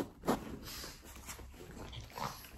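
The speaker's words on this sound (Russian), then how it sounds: "Смотри, Кирюша, она прям аж скулит" A dog whimpers and whines indoors in short, plaintive bursts close by, with soft snuffling breaths between them, while it waits to go out on a rainy day.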